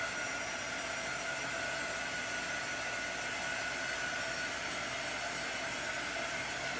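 A heat tool, similar to an embossing gun but cooler, blows steadily to dry chalk craft paint, making a constant even whooshing hiss from start to finish with no pauses.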